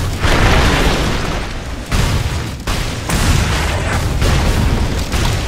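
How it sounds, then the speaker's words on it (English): Heavy booms and blasts as a tower is destroyed in Dota 2, a dense, loud sequence of explosive bursts with brief gaps between them. "Dire's middle tower has fallen"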